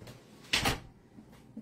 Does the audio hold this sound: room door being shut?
yes